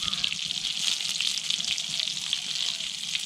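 Gucchi morel mushrooms fry in hot oil for a Himalayan shepherd dish, with a close, lively crackling sizzle and scattered pops throughout and no voice over it.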